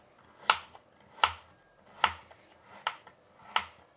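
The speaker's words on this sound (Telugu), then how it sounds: "చూడండి క్యారెట్ కూడా రౌండ్గా ముల్లంగి కోసినట్లు కోస్తున్నానండి" A knife slicing a peeled carrot into rounds on a board: five crisp, evenly spaced chops, close and clear, with quiet gaps between each cut.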